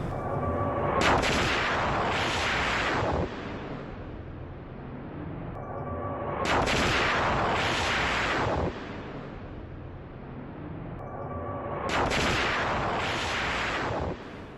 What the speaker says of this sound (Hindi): यूक्रेनी पोजीशंस पर एयर स्ट्राइक की गई।